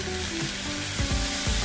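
Onion and garlic sizzle steadily while frying in a pan, with a few louder stirring scrapes near the end; continuous close crackle with no talk.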